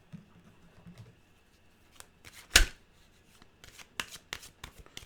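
A deck of oracle cards being shuffled by hand, quick papery riffles and taps in uneven bursts with one loud sharp slap near the middle, close and alone.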